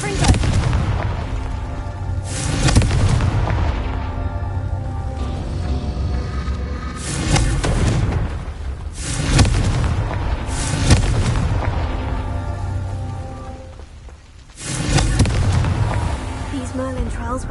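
Repeated loud booming blasts of the Confringo explosive spell in the PS5 game Hogwarts Legacy, several heavy bursts over continuous game noise with rumbling tails.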